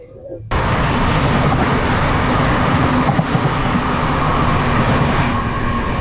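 The 12028 Bangalore to Chennai Shatabdi Express runs at speed, a loud, steady, continuous rumble and rattle of the coach heard from inside, starting abruptly and holding even throughout.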